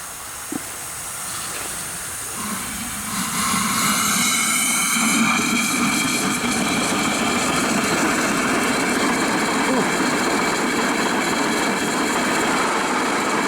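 A 1920s Erie steam shovel's steam engine running for the first time in years, a continuous loud hissing chuff that builds after a few seconds and holds steady, close by with no speech.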